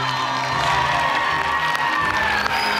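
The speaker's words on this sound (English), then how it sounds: "A round of applause for Ayedoro." A studio audience cheers and whoops loudly for a contestant at a winner announcement, a dense, sustained crowd roar with shouts and some clapping mixed in.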